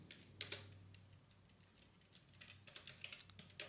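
Quiet clicks from a computer keyboard, a few keystrokes at first, then a pause, then faster irregular typing, faint and close with no voices.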